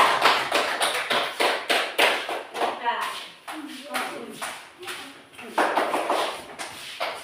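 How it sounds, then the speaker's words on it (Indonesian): A classroom of students claps for a group, a sharp and rhythmic patterned clap that pauses briefly midway and then resumes, with voices mixed in. "tepuk tangan untuk kelompok 3"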